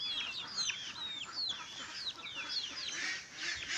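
Native chickens in a backyard poultry area, with many birds clucking and calling together in a busy, continuous chorus at moderate distance.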